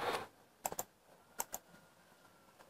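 Several short bursts of keystrokes on a computer keyboard as a number is typed in, clustered clicks separated by pauses, close and fairly quiet with no talking.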